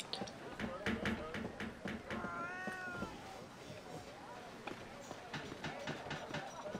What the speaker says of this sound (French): Ah, il y a chaton.